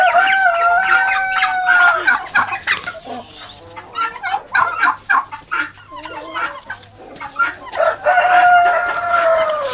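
Several turkeys call over one another in a busy farmyard, with repeated warbling gobbles and clucks rising and falling close by while toms compete over hens.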